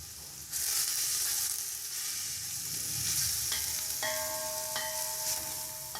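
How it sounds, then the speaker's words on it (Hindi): Carrots dropped into hot ghee hiss and sizzle steadily for egg fried rice, a loud continuous frying crackle beginning abruptly after a brief quiet moment, with faint clinks of a utensil against the pan toward the end. "मैंने पहले लिए घी डाल दिया है और अब मैं इसमें अपनी जो कैरेट्स हैं वो ऐड करूँगा"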